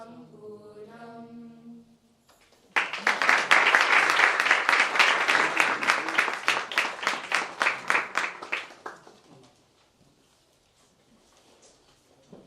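After a Hindu temple service, an audience breaks into a burst of applause that swells, holds for several seconds, then thins into scattered claps and fades, preceded by a moment of voice.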